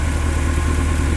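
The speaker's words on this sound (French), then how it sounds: "juste histoire que vous puissiez voir un peu le moteur et entendre le moteur" A 2001 Mercedes S500 W220 with an M113 engine idles steadily, a low continuous rumble with an even hum, close by and fairly loud, no talking.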